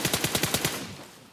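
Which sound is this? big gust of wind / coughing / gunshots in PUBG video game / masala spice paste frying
gunshots in PUBG video game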